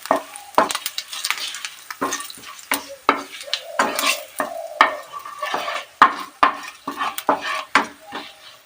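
Panch phoron spices tempering in hot oil for shukto: a light crackling sizzle beneath repeated clinks and scrapes of a spoon stirring against the pan, close and fairly loud, in an irregular rhythm.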